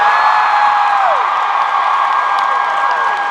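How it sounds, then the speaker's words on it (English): A packed convention hall crowd roars with sustained applause, cheering and whoops for guests at a panel, loud and close throughout. "please, warm round of applause for Mr."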